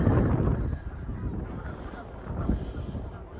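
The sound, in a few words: geese honking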